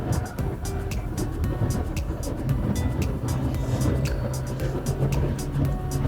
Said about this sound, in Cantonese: 通常我要俾響胎聲你聽